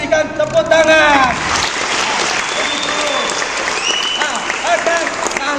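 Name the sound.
children clapping hands at Christmas event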